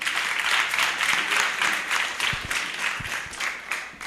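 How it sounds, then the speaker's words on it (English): An audience at an International Children's Day celebration claps for St. Paul's Primary School, a sustained round of many hands with a slightly pulsing texture and a few sharper claps near the end. "I'm looking at you to see if you are clapping for St. Paul's Primary"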